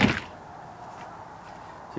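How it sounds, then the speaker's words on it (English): A cargo door on a 1959 VW Double Cab pickup is opened, giving a single loud metallic latch clunk at the start and then quiet ambience. "So open the cargo door first."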